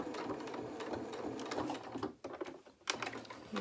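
A sewing machine runs steadily through a denim jeans seam with contrast top stitching, a close, continuous rapid chatter that pauses briefly near the pivot before resuming.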